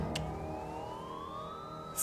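A siren wails with a slowly rising tone, steady and moderately loud, heard alone without voices, with a brief bump of noise at the end.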